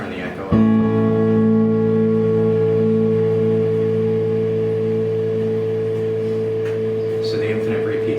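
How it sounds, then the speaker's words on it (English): A modded Madbean Cave Dweller echo pedal with the dwell knob near full, kicking in with a sudden swell into a dense, constant wall of infinite repeats that hum on without fading. "the infinite repeats on this one are almost all the way up, and then the oscillating repeats are the last little nudge on the knob"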